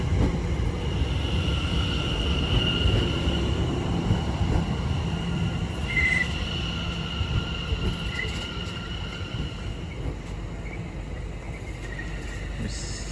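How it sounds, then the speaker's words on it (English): A Greater Anglia Class 720 electric train runs through Stratford station on the Great Eastern Main Line toward Southend Victoria, giving a steady broad rumble with a faint whine and brief squeals throughout. "Anglia service from London Liverpool Street to Southend Victoria. 720 535 leading."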